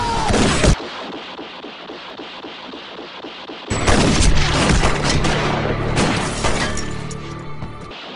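Rifle shots in a TV western, a sharp crack near the start, then after a quieter stretch a loud burst of gunfire with ringing echoes and clatter, close up.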